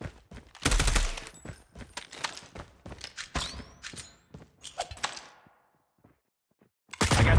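Gunfire in Call of Duty Mobile on a dock map: rapid bursts and single loud shots mixed with impacts, clatter and game effects, close and dense, then a brief lull before another burst.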